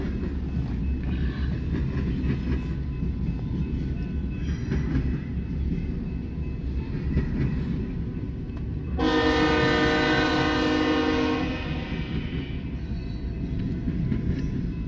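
A BNSF freight train rumbles past heading north on the Sioux City Sub near Fremont, Nebraska, a loud continuous roll of wheels and cars with a sustained horn blast partway through.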